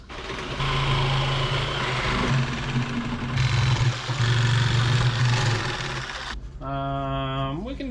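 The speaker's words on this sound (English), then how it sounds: "I am a professional with the Sawzall, so we're going to start with that" A Sawzall reciprocating saw cuts out a rod tube on a Tracker boat, buzzing loudly and steadily close by with a rough, rattling motor tone that dips briefly before a final high whining rev.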